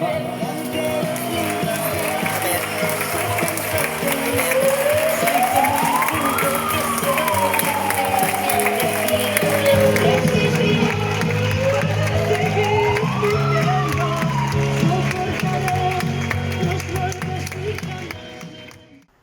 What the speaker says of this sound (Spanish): I aixina que fem un fort aplaudiment per a ells